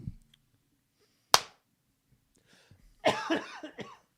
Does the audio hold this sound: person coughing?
yes